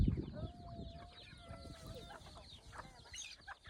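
Wild junglefowl cluck softly in a rural outdoor setting, a few scattered calls at moderate distance with faint background noise and a brief knock at the start.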